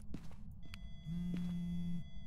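A phone going off inside a ghost hunting video game: a steady electronic buzzing ring lasting about a second, with faint clicks and background hum, heard fairly quietly and with no talking.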